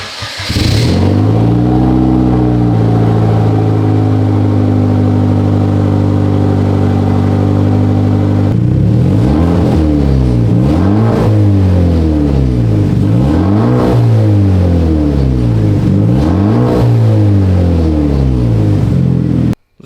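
A Hyundai Genesis Coupe on its stock exhaust idles and then revs repeatedly, a loud, close engine climbing and falling in several blips with no talking.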